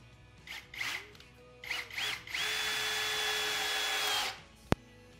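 A power drill with a bit holder drives screws into wood in short whirring bursts, then one long steady high whine, ending in quiet and a sharp click.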